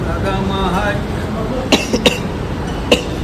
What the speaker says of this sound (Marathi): खोकल्याने वाट लावली